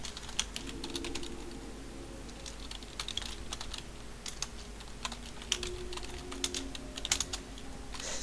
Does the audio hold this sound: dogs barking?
no